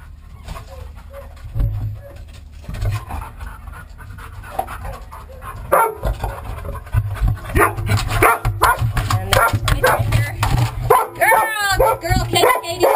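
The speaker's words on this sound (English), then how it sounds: "So now I'm just waiting for the dog to come find me." A search and rescue dog pants rapidly and barks close by during a training search, with the sound growing louder and busier as she arrives, and a person talks over it.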